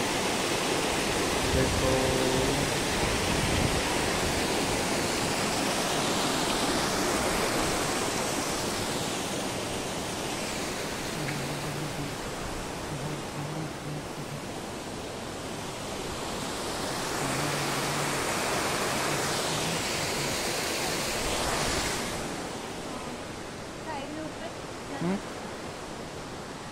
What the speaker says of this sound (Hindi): ये पहुंच चुके हैं हम यहाँ पे वाटरफॉल